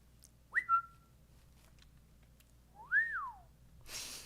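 Two rising-and-falling whistled chirps, a person imitating a birdcall, separated by a short pause, clear and close, followed by a brief rustle.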